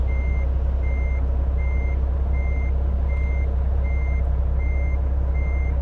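A Volvo FH 2013 truck in Euro Truck Simulator 2 reverses while parking, sounding a steady series of about nine evenly spaced reversing beeps over a loud, constant low diesel idle.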